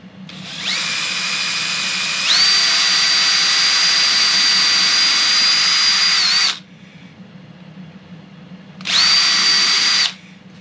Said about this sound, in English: I need to go about 2/3 of the way in with the drill bit.